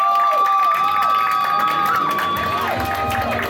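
A convention crowd at an anime game-show stage event cheers and claps loudly in a continuous wash, with whistles and shouts over the noise.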